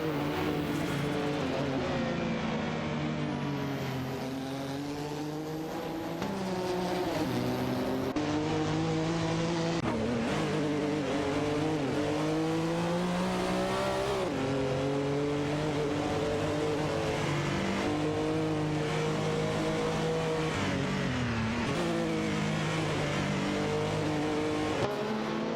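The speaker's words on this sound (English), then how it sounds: "The battle for 17 continues as Barbardo in his McLaren F1 LM faces off against Edelbach in the Ferrari I40 LM." Race cars, a McLaren F1 LM and a Ferrari, roar continuously in a racing video game, engines revving up and down through gear changes with some tire noise, loud and steady throughout with no talk.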